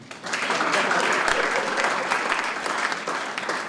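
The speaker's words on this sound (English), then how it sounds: "Put your hands together" Audience applause at a performance, a dense sustained wash of many hands clapping that swells in quickly and stays loud and even to the end.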